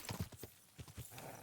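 Horse hooves clip-clop in a steady trotting rhythm while riding in the video game Kingdom Come: Deliverance II, about half a dozen muffled, soft thuds over a quiet background.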